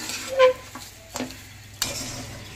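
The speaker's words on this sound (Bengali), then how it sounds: "এবার চালটাকে ভালো করে ভাজতে হবে।" Washed, drained rice stir-fried in a pan, heard as quiet scraping and stirring strokes over a low sizzle, with a few distinct clinks of the utensil against the pan.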